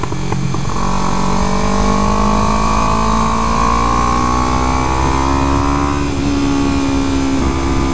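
A motorcycle engine drones steadily at close range, its pitch rising and falling gently as the rider follows a braking truck through winding corners, with constant wind rush and no talk.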